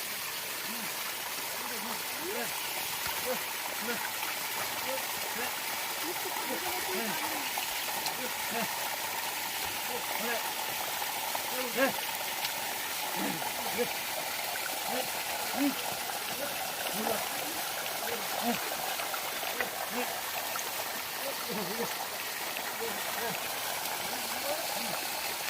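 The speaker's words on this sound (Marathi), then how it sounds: "कॅमेऱ्यावरती पाऊस पडलाय" Rain falling outdoors in rural Konkan farmland, a steady wash of droplets with a continuous low rush that sounds like running water, heard alone at an even level throughout.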